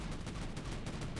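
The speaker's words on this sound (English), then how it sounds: "I'm just kind of shooting into this Ansel shield and I get it down and do a little damage" Sustained rapid gunfire in a video game as shots pound into an enemy shield, a dense continuous rattle for about a second.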